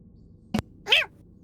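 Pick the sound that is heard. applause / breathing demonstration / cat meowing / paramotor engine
cat meowing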